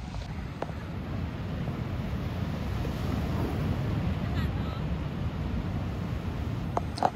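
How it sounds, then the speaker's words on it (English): Barrel waves break at a surf spot in Siargao, a steady broadband rush of surf mixed with wind buffeting the microphone, continuous and fairly loud with no clear individual crashes. "these are barrel waves and it looks terrifying"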